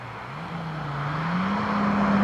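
A Renault Alpine GTA Turbo drives through a corner, its engine note rising steadily as it accelerates out, heard close and moderately loud with no talking.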